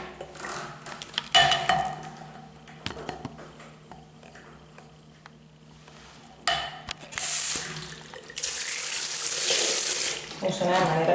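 A handheld shower tap runs water in a tiled bathroom, the spray hissing in bursts between quieter gaps, with faint clatter and brief voices nearby.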